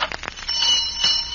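A dinner bell rings in a household to announce the meal, a short bright ringing burst lasting about a second, fairly close and alone without talk.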